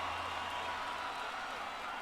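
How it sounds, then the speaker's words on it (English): A live rock crowd roars at a band performance, a steady wash of cheering and noise sustained at even loudness throughout. "Listen to the crowd"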